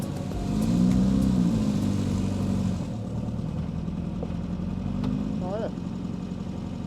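A 1981 Formula Subaru race car running in a historic Formula Ford class on a track test day, its engine a steady mid-pitched drone that swells briefly and then holds, with someone talking over it.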